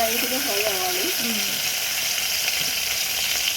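Cumin seeds sizzle in hot oil for a South Indian tomato chutney, a steady loud frying hiss with a voice talking over it in the first part.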